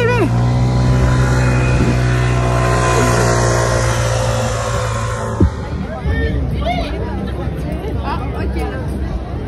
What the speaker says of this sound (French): on a l'ami Ghislain en arrière, Ghislain, avec son scooter qui nous fait de l'intimidation